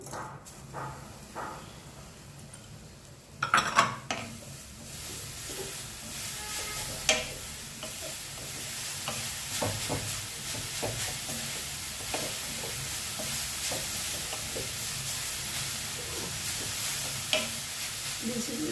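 Grated coconut and jaggery are stirred together in a pan for a tilottoma sweet filling, producing a low sizzle with scattered spoon scrapes and taps, one sharper knock near the start, and no talk.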